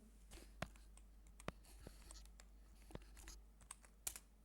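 A computer keyboard typed on quietly, with scattered key clicks and a few sharper taps over a low steady hum, no speech.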